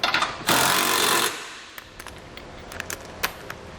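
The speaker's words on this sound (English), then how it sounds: "So I'm using a 3/4 inch socket for the larger one," An impact or power tool drives trailer hitch bolts home with a 3/4 inch socket during a Curt receiver install on a 2017 Ford Transit: one loud, steady burst of nearly a second, then faint clicks and clanks.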